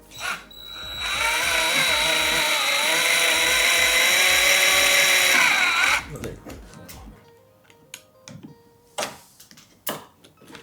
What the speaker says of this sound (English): we're gonna drill out these rivets